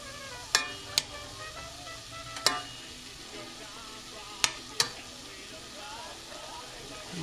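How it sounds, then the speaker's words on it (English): Five homegrown garlic cloves sautéing in a pan for tomatillo salsa, a faint soft sizzle broken by a few sharp clicks and taps of a utensil against the pan. "I'm going to saute that a little bit."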